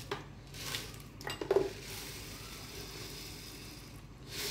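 Carrot halwa mixture stirred in a pot with a spoon, quiet scraping and a few light metallic clinks near the middle, faint and close with no talking.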